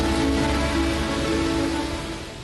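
Morning rain showers fall over Mumbai as a dense, even hiss of rain on surfaces, steady and loud throughout, with no voices.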